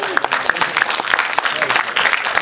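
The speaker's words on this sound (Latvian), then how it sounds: "Ļoti vāji aplausi" Thin, scattered applause from a small audience at a film presentation, with sparse individual claps under a person talking.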